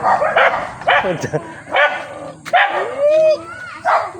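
A dog barks repeatedly at close range in short bursts, with yips and whimpering whines between barks.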